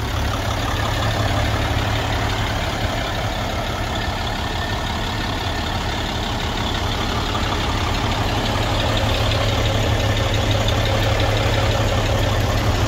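A Caterpillar C12 diesel with 410 horsepower and a single exhaust idles in a 2000 Peterbilt 378 day cab, a loud, steady low rumble with an even clatter and no talking throughout.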